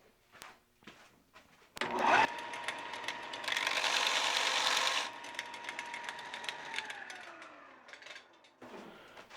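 Wood being shaved down by hand in an axe shop, a gritty rasping scrape that swells for a few seconds amid scattered clicks and knocks of handling, fairly quiet and close.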